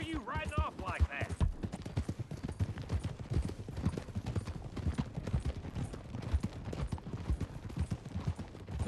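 Horse hooves clip-clop steadily on a trail in Red Dead Redemption 2, a rapid rhythmic galloping beat from several horses close by, with a voice talking over it.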